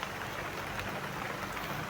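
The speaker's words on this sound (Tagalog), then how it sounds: "So may ulan pa mga tol." Steady rain falling outdoors, a dense, even hiss of drops with no breaks, fairly faint and constant throughout.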